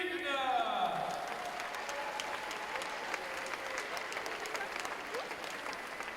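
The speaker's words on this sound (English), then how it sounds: "I would like a big applause" A crowd at the IFSC Climbing World Championships final in Paris bursts into sustained applause, dense clapping that swells early then carries on steadily, with a voice briefly heard over it at the start.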